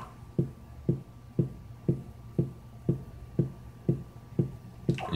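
A simple beat from the LittleBigPlanet music sequencer thumps in a steady, evenly spaced pulse of about two hits per second, dry and moderately loud with a low hum underneath and no speech.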